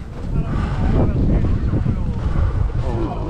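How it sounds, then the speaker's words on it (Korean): Strong gusting wind roars across an exposed ridge of Sobaeksan mountain in winter, a loud, continuous buffeting rush hitting the microphone with broadband turbulence throughout. "와, 바람 진짜 심하네요."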